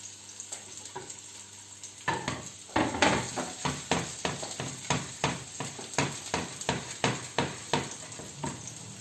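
Garlic and onion frying in a saucepan, a steady hot sizzle punctuated by a regular series of sharp scraping stirs against the pan, each stroke clear and close, no voices.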